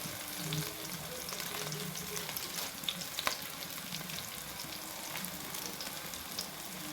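Onions and tomatoes for tomato kurma fry in a pan with a steady, close sizzle and crackle that runs throughout, with a few sharper pops and stirring scrapes midway.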